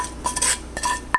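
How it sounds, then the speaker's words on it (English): Sautéed onions and garlic scraped into a yellow squash casserole dish, heard as a few brief clinks of utensil against dish with soft scraping over a short moment. "I'm going to dump in my sauteed onions and"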